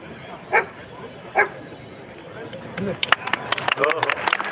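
A police dog gives two short, sharp barks amid background chatter at a Republic Day event at police headquarters, followed by a busier stretch of clattering and crowd noise.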